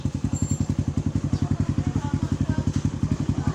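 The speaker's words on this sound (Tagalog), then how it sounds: "So ayan mga kay Diaz, patadyak natin." Kawasaki KSR110 motorcycle engine being kick-started and running, a steady rapid thumping rhythm of low pulses repeating evenly throughout, close and loud, during troubleshooting of an electrical fault.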